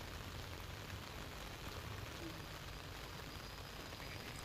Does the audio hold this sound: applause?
no